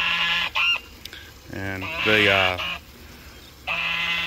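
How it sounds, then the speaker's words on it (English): A gander goose calls out in harsh, honking bursts, several loud close cries with short pauses between them, outdoors on a property where an ATV sprayer is used, with a voice briefly present. "the gander goose is not very happy right now"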